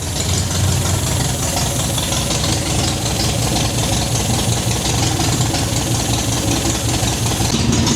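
An MGB classic car engine idles steadily up close, a loud continuous rumble with a slightly knocking, uneven texture and no talk over it.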